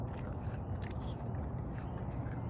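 A firm, dense-fleshed apple is bitten into with its skin on and chewed, giving close, crisp crunching that goes on for a couple of seconds without speech.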